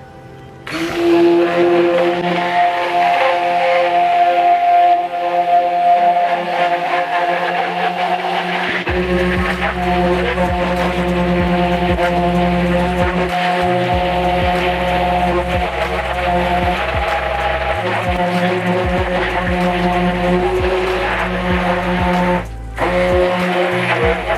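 A soap-making tool attached to its holder churns a homemade organic soap mixture, a loud steady mechanical whir with a low motor drone that starts a few seconds in and runs continuously, with brief dips, and no talking.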